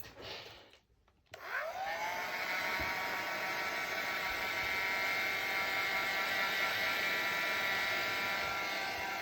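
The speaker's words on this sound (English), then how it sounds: "we'll give that a dry with the heat gun" A loud, steady blowing whir of a heat gun that starts after a brief pause and runs continuously, close and unchanging.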